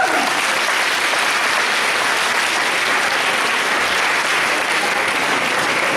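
Audience applause at a cosplay contest at the Manga Dax 2017 convention, a steady, dense roar of many hands clapping that fills the hall without pause.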